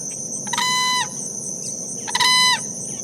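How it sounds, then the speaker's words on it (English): Whooping crane calling twice, each call a loud, brassy bugling burst about half a second long, separated by a short pause, over a faint steady background hum and insect noise. "this is what a whooping crane sounds like."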